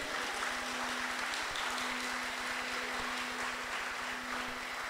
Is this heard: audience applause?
yes